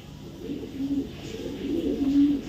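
Close, low cooing of racing pigeons rolls in soft repeated phrases, with no talking.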